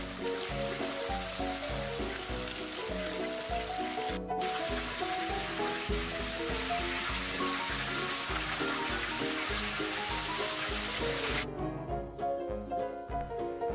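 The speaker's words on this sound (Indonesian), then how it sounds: "Lakukan hal yang sama untuk menggoreng ayam selanjutnya." Pieces of chicken fry in hot oil with a steady, loud, close sizzle and crackle that runs throughout, with no talk.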